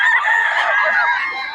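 A young gamecock stag, a Leaper Hearts full stag, crows loudly and close by in one sustained, strained call lasting the whole moment, with no other sound around it.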